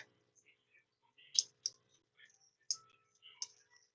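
A relay switched on with 10 volts gives faint, sharp clicks, several spaced ticks heard close but quiet over a near-silent background.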